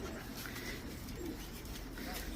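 Pigeons coo steadily in a show-bird loft, a continuous soft bed of murmuring calls from many birds at moderate distance, with faint background noise throughout.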